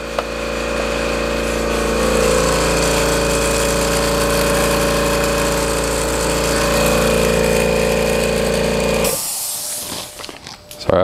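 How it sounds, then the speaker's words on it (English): An air compressor used to air up off-road tires runs with a steady, loud, continuous drone for about nine seconds, then cuts off abruptly, leaving scattered clicks and handling noises. "I'm gonna shut the compressor off."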